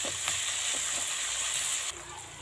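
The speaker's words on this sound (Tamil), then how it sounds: "தக்காளி நல்லா மேஷ் ஆகிற அளவுக்கு நல்லா வதக்கணும்." Onions and tomatoes sauté on a stove for a crab curry, giving a steady close crackling sizzle with light stirring that softens slightly near the end.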